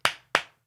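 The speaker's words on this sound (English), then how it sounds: "Clapping too loud" Two loud, sharp hand claps sound close by, evenly spaced, with a short ring after each and silence between.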